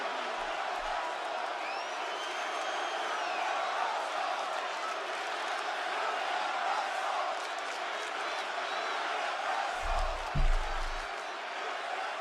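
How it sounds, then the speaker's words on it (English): Large wrestling arena crowd at WWE Smackdown, a steady distant roar of cheering and shouting that holds throughout, with a brief low thump near the end. "to take a crowd that was booing him, where John Cena leaned into it, and to flip the damn crowd"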